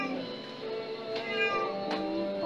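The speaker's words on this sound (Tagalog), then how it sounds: "Ano bang problema mong maingay kang pusa kang malakas sa akin?" A noisy house cat meows loudly and repeatedly, its harmonic cries running continuously close by, with two sharper strained peaks standing out.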